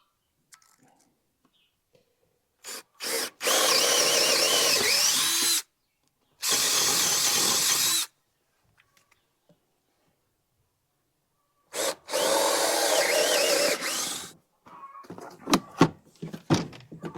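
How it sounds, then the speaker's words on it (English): Hammer drill boring into concrete in a barn, loud close bursts of grinding, rattling drilling lasting a few seconds each, separated by silent gaps, with clattering handling noises toward the end. "got a concrete drill, hammer drill. Drill into the concrete"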